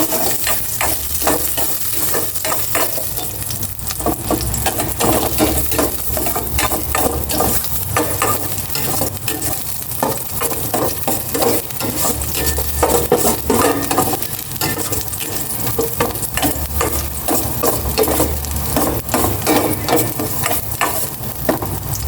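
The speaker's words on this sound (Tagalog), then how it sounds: "igisa ko na itong bawang at luya" Garlic and ginger sauté in a little hot cooking oil with a loud, continuous close sizzle and frequent scraping stir strokes of a utensil against the pan.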